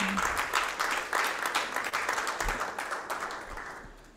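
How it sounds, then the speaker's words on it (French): An audience at a panel discussion on the economy applauds, a fairly dense patter of clapping that swells early and gradually thins and fades toward the end. "Applaudissez très fort, s'il vous plaît."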